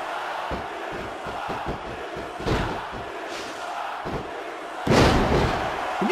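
A wrestling arena crowd in WWE SmackDown vs Raw 2006 roars steadily, with surges of cheering and a loud swell near the end, mixed with impact thuds from the ring.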